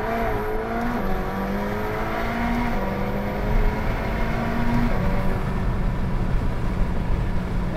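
McLaren 720S supercar accelerating hard from inside the cabin: a loud, sustained engine roar rising in pitch through several gear changes, each shift briefly dropping the tone before climbing again, with no talk over it.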